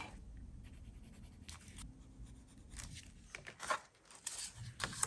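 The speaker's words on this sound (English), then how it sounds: "And now I just need to cut the tag shape." Scissors cutting a paper tag shape up close, heard as quiet snips and scratchy paper rustles in an irregular rhythm, with no voices.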